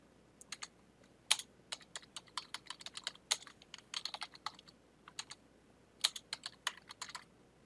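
Rapid clicking of a computer keyboard while network switch settings are entered, in uneven bursts of keystrokes with brief pauses, close and clear with no talking.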